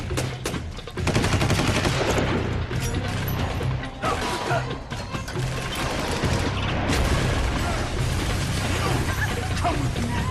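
Gunfire in the tactical shooter game Rainbow Six 3 Black Arrow: sustained bursts and rapid shots crackle throughout with heavy low rumble and clattering impacts, loud and continuous, with faint voices mixed in.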